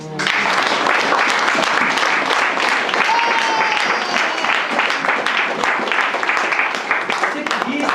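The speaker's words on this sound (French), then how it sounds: "Acclamons le Seigneur" Applause from a church congregation praising the Lord, a steady dense clapping that holds loud and even for the whole stretch with no break.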